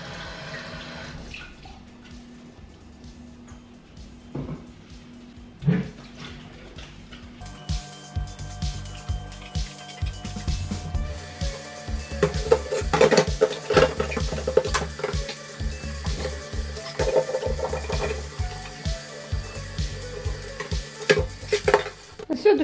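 A glass pot lid is rinsed under a running kitchen tap, with water splashing and spraying steadily, growing louder partway through, punctuated by clinks and knocks of the glass against the sink, close and without talk.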